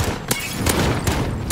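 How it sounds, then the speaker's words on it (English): Shotgun blasts in a video game hit in quick succession, three or four loud, close reports over a noisy, busy game mix. "Shotgun bullets right at me."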